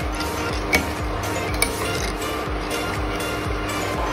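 Sugar syrup with food colour is stirred in a pot for chana dal laddoos, giving a steady, close scraping swirl with a few light clinks of the spoon against the metal rim and no speech.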